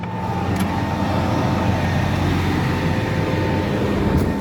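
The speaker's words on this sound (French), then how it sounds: "On arrête le tracteur, le frein à main" A farm tractor engine drones steadily, rumbling continuously at close range, low and unchanging, with no voices over it.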